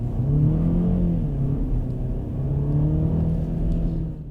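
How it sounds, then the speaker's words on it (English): A BMW 2 Series Gran Coupé with a 2-litre engine revs under full throttle, its sound largely piped through the cabin speakers: a smooth, droning hum that swells and dips, steady and close, with no talk. "All that noise you're hearing isn't from the exhaust, it's coming from these speakers."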